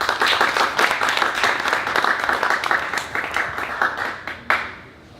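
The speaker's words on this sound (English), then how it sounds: "So please give all of them a round of applause." An audience at an evening keynote event applauds in dense, steady clapping that fades out over several seconds and ends with a few scattered claps.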